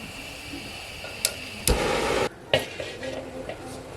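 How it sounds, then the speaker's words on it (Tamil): Semolina being roasted in ghee for kesari in a large pot, with a scraping stir, a few loud metallic clanks of the ladle and a faint sizzle between them. "நெய்லேயே ரவா வதக்கி எடுத்துக்கலாம்"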